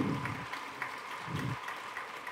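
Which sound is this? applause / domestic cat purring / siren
applause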